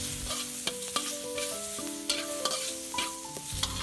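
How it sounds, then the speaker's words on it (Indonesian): Shrimp hit hot oil with garlic, shallots and chili, and sizzle steadily up close. Quick spatula scrapes and taps stir the pan at an irregular rhythm over the constant frying hiss. "Jika sudah wangi, masukkan udang."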